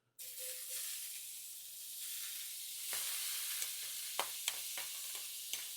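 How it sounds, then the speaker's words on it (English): Onions and peppers sizzle loudly in a hot pan of bacon grease, a constant close frying hiss broken by sharp clicks of stirring. "Saute this up in this nice bacon grease"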